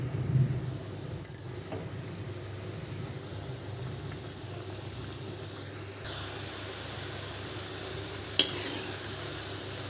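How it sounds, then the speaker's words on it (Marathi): Salted shankarpali dropped into hot oil in a kadhai, giving a soft steady bubbling sizzle with a few sharp metallic clinks, and the fizz grows brighter about halfway through. "यामध्ये आपण शंकरपाळे सोडूया"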